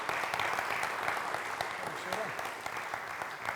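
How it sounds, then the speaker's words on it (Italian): An audience at an Italian football gala applauds, a dense, steady wash of clapping that holds at an even level throughout, with a voice faintly audible beneath it. "Prende anche l'applauso qua."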